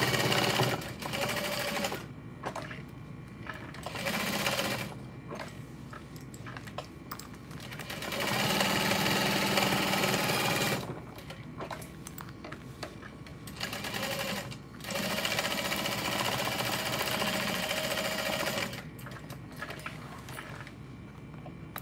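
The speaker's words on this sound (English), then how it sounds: "But now I'm going to baste it all into place. And just sew around the outer edge." A sewing machine stitches around the outer edge of a backpack panel, running in steady close bursts of a few seconds each, separated by short pauses.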